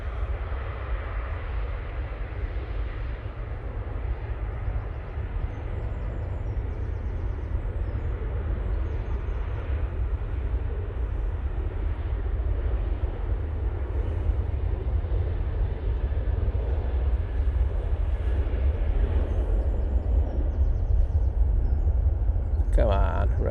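A Ryanair Boeing 737-800 bound for Valencia spools up and takes off from Manchester Airport, a distant, steady low jet roar building slightly over about twenty seconds, heard from outside with faint background sounds.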